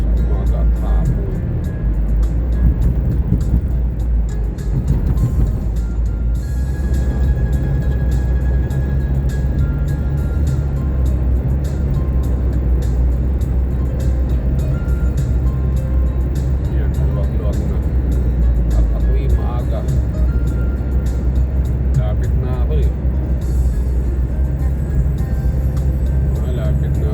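Morning rush hour traffic on a Dubai road, heard from inside a moving vehicle as a constant loud low engine and road rumble with no break.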